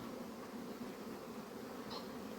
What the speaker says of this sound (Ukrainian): основна маса бджоли прилітає, дуже мало відлітає